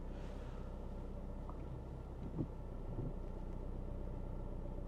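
Steady low road rumble of a car stuck in slow traffic near Bordeaux, a continuous drone of engines and tyres with a couple of faint thumps, no talk.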